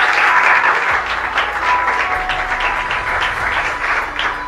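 A crowd at an academy gathering gives loud, sustained applause as a student is welcomed, with dense clapping that holds steady for several seconds.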